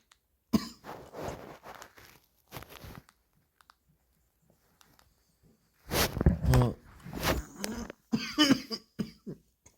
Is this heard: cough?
yes